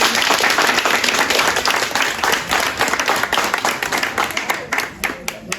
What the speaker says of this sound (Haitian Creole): On nous applaudit, il va d'accord.